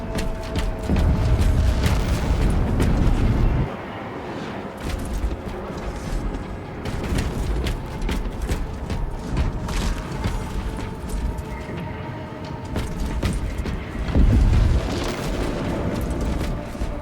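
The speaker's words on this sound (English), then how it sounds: "Preparing orbital barrage." Orbital barrage explosions in Warhammer 40k Space Marine 2 hit in heavy booming bursts over a constant rumble of battle, loud and dense, with mechanical clanks between the blasts.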